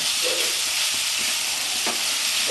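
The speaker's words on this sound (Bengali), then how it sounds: "আমি অনেকক্ষণ ধরে কষছি এটা মশলার সাথে মাছটা দিয়ে অনেকক্ষণ ধরে নাড়াচাড়া করতে হবে" Lote fish (Bombay duck) fries with spices in a pan for a Bengali-style jhuri, a constant bright sizzle broken by a few soft knocks and scrapes of stirring, close up with no one speaking.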